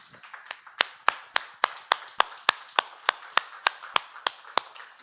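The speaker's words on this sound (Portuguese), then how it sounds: "Uma salva de palmas ao Rei Jesus." A church congregation claps in praise during a worship service, about eighteen crisp, evenly spaced hand claps in a steady rhythm, close and fairly loud, with no talk over them.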